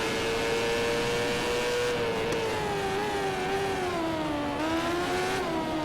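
Moto2 racing motorcycle in MotoGP 13 on PS3, its engine whining loudly and continuously in a high, sustained tone that dips and climbs with the throttle, near and alone without speech.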